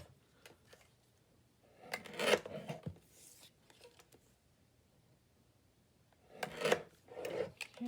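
Scissors trimming around a laminated sheet, a few quiet raspy cutting strokes in two short clusters separated by near silence, close by.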